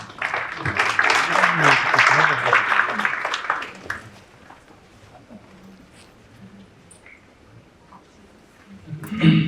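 An energy conference audience applauds a speaker on nuclear energy research strategy, with a burst of clapping for about four seconds that dies away into quiet room tone before a voice begins.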